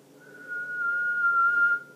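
A person whistles by sucking air inward, producing one sustained, steady high tone lasting over a second, fairly clear against a quiet background with no talking.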